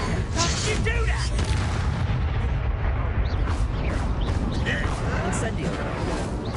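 Fire spell blasts in Hogwarts Legacy, loud booming, roaring bursts of flame that run continuously, with voices talking over the din.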